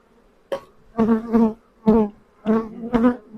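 Honey bees buzz close by at an opened hive during a spring inspection, five loud buzzing bursts rising and falling over a few seconds.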